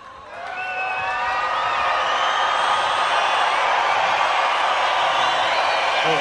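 A large open-air festival crowd at a Die Ärzte show in Switzerland breaks into frenetic applause and cheering that swells within the first second, then holds as a dense, loud, steady roar with whistles on top.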